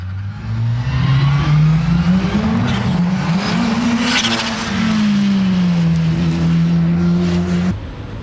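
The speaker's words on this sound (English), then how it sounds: "Tony Sugden in that fearsome turbocharged Skoda" A turbocharged Skoda race car roars at Donington Park, its engine note loud and close as it revs up and down through gears for several seconds before cutting off, with no talk over it.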